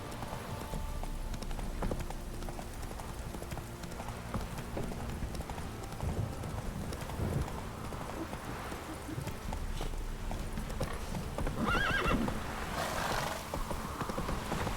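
Roach, the horse in The Witcher 3, clip-clops steadily at a trot with a whinny breaking through, hoofbeats continuous and fairly close under a busy game soundscape.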